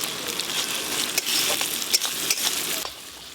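Spices sautéing in a pan with ginger paste, cumin paste, chopped tomato and chili powder, a steady close sizzle with scattered soft scrapes of stirring throughout.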